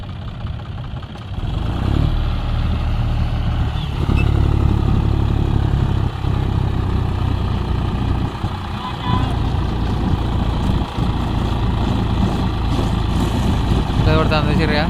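A tractor engine runs steadily nearby, a loud low rumbling drone that holds throughout with small surges, while people talk over it.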